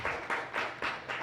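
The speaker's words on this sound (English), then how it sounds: "I would like to applause to the speakers." An audience at a wildlife biodiversity conservation symposium claps for the speakers, a short burst of applause that swells in several even pulses, moderately near and not covered by any talk.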